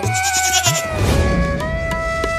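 A cartoon goat kid bleats in a few wavering, nasal cries, clear and close, with no talk over it.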